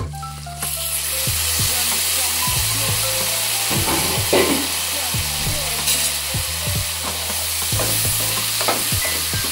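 Curry leaves dropped into a hot pan sizzle in a loud, constant hiss, broken by repeated scraping and clattering strokes of a spoon stirring the pan.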